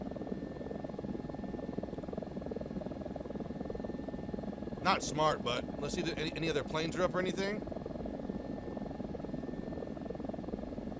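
A Ka-52 attack helicopter's rotor drone churns steadily and close throughout a combat video game round, with a player talking over it partway through.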